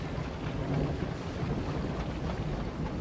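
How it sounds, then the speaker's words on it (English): Thunder rumbling under steady rain in the RoadCraft video game, a dense low roll with constant wash of rain and wind, continuous and fairly loud with no voices. "We're getting some thunder in the background, I can hear."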